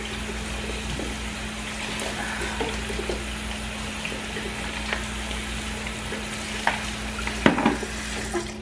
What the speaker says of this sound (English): I'm going to throw the rest of these shrimp in the colander to rinse those and let them thaw out a little bit